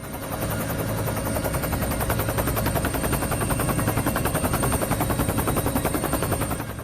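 A helicopter flying over flooded streets in central Italy, its rotor chopping in a steady rapid pulse, loud and close throughout with no voices.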